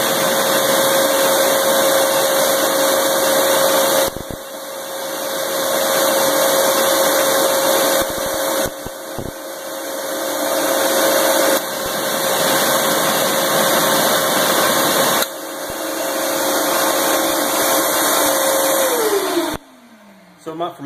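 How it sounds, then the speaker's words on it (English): A diesel engine fitted with a He300vg variable-geometry turbo and exhaust brake runs with a loud, steady droning hum and a sustained whine, the tone shifting in several stages before the whine drops away near the end. "So this here is the exhaust brake."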